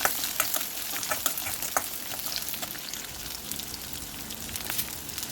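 Onions sizzle and crackle steadily in a hot pan, with occasional stirring scrapes, close and continuous.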